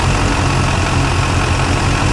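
A 2001 Chevy Silverado 3500 dually with a 6.6L LB7 Duramax diesel in nice condition, no blow-by, idles loudly and close by with a steady, rough low-end rumble and no other sounds.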